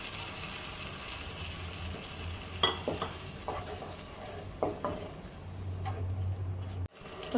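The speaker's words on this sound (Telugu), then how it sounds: "ఇవన్నీ వేసుకొని మంచిగా ఫ్రై చేసుకోవాలి." Tomato puree frying in a pan while fish biryani is prepared, a steady soft sizzle with occasional stirring scrapes and clinks, close and continuous with no talk.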